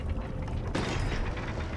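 A wheel mechanism in Conan Exiles turns with a continuous wooden creak and grinding mechanical strain that holds steady for nearly two seconds.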